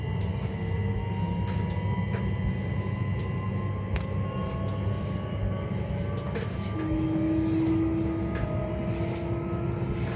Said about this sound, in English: hopefully you can see it's a little journey that I had back on the train the other day